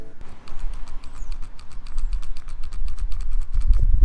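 Rapid, evenly spaced mechanical clicking of a freshly lubricated motorcycle push button pressed over and over, close up and crisp, with a low rumble rising near the end.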